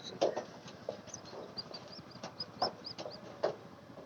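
Pigeon squabs begging to be fed in a loft, giving a run of soft, fluttering squeaky chirps and a few louder peeping bursts, close by and repeated over steady low rustling.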